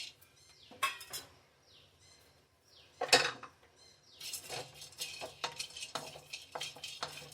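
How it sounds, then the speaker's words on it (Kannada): Whole spices, including mace, half a nutmeg, marathi moggu, star anise, cardamom and stone flower, are dry-roasted in a pan without oil. A spatula scrapes and clinks against the metal in irregular bursts, fairly quiet and close, with no voices. "ಎಲ್ಲ ಡ್ರೈ ಆಗಿ ಫ್ರೈ ಮಾಡ್ಕೊತಾ ಇದ್ದೀನಿ."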